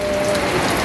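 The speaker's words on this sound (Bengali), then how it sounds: "এই দেখেন বাহিরে আবার বৃষ্টি শুরু হয়েছে" Steady rain falls outdoors in Bangladesh, a continuous close hiss of drops on surfaces with no voices present.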